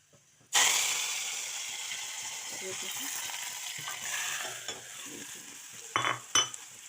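Mustard seeds dropped into hot ghee burst into a sudden loud hiss that settles into a steady, close sizzle, with a few crackles and clanks of a utensil toward the end.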